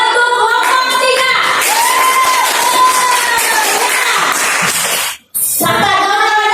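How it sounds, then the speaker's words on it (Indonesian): Clapping and cheering from a group, likely a classroom or school gathering, for group 3, steady and loud for several seconds, cutting out briefly near the end before resuming, with voices shouting within the crowd. "tepuk tangan untuk kelompok 3"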